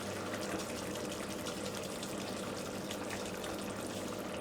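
Water rinsed from a mixer jar poured into ground paste for Kerala ulli theeyal, a soft continuous trickling pour that stays steady and fairly faint throughout.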